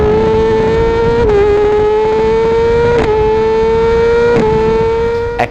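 Motorcycle engine captured by a GoPro mounted on the tail section, a loud close steady drone with strong harmonics and a few quick throttle blips, held near constant speed with no talk.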